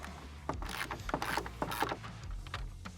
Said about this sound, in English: So I grabbed the little 1/4 drive ratchet with a 10mm socket.